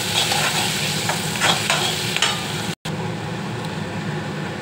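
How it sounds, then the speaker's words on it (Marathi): Ginger and garlic sizzle steadily in hot oil for an egg curry, a dense close frying hiss with a few sharper crackles and a brief dropout near the end, with no voices. "कढीपत्ता झाल्यावर मी टाकतोय अद्रक लसूण। मला 2-3 सेकंद शिजवून घेऊया।"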